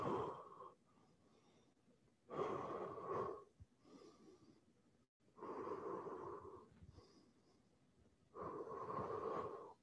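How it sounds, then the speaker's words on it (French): Deep, slow breaths from people in a group lunchtime workout at a sports centre, four long loud inhale-exhale swells separated by quieter pauses, close and without talk. "Prends des bonnes respirations."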